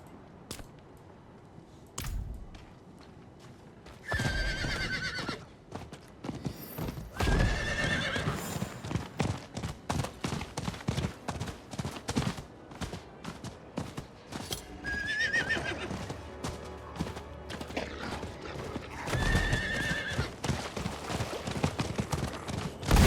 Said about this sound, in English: My horse threw me off.